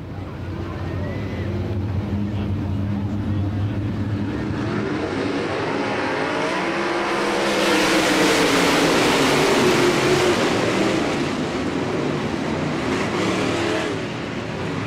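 Race boats at a Great Lakes Thunder 2000 event accelerate through turns on the course, a loud continuous engine roar that swells toward the middle with wind buffeting, and a voice faintly under it.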